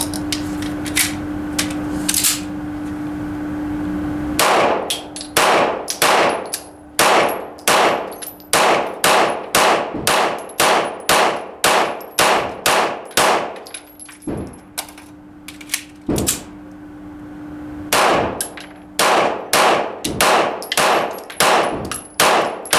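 A 9mm pistol fires about thirty rounds: loud, sharp, close shots in quick strings separated by brief pauses, each crack ringing out, with no talking.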